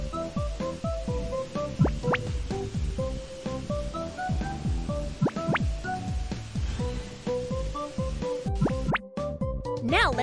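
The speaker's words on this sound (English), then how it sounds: "Let's rinse away the foam." Cartoon water rinsing soap foam off a car in a children's car-repair game: a dense stream of bubbly drips, plops and rising squelchy blips over light, steady background music.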